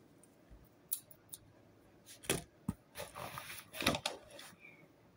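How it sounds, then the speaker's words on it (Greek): Scissors cutting paper at close range, several sharp snips and short crunchy cutting strokes in uneven bursts, growing busier toward the end, with no talk. "Ψαλίδι για να κόβω χαρτιά."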